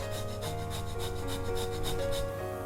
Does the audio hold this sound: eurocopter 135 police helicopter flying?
no